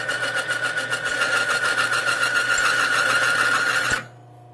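A Timken bearing test machine runs dry under load with a steady, loud mechanical whine and hum, then cuts off abruptly near the end as the bearing seizes.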